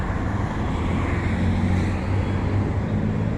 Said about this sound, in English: the traffic noise is loud here